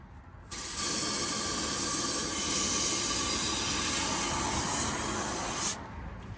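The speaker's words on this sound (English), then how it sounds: "it looked like that was spraying all the way down" A loud, continuous hiss of Fluid Film undercoating being sprayed under a 2021 Toyota 4Runner starts abruptly, holds steady for about five seconds, then cuts off sharply.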